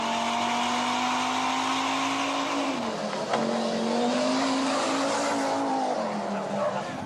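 2017 Audi RS3 compact sedan, engine droning loud and steady with a pitch dip around a gear change, then revving back up, with some tire noise mixed in.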